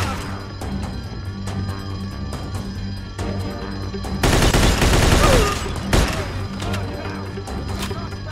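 Police gunfire in the video game Mafia II, heard as a dense loud burst of rapid shots lasting about a second over steady game ambience and music, followed by a sharp single crack.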